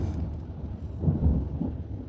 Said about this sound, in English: Oh, the storm.